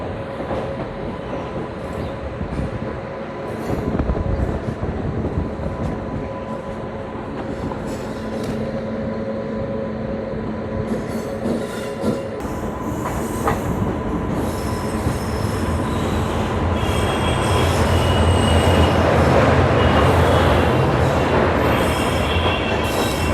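Train rolls past on the rails near a road, wheels squealing and car after car rattling by, loud and close and swelling toward the end.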